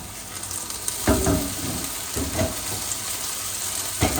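Two large chopped onions fry in a pan with a steady hiss, marked by a few louder stirring scrapes and clatters that come close and clear, with no talk.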